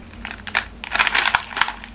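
Unwrapping the packaging of a 2019 calendar, close crinkling and crumpling of plastic or paper in quick irregular rustles, with no talking.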